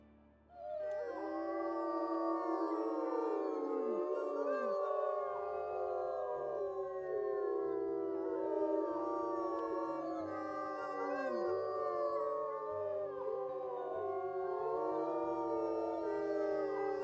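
Several wolves in the video game WolfQuest howl together in a long, layered chorus of rising and falling wails, loud and sustained over many seconds, one voice notably deep.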